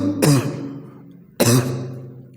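Two sharp, rough coughs about a second apart from a maths teacher during a lesson, close and loud, with no talking.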